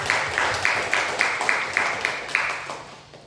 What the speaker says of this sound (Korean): 우리 큰 박수로 하나님께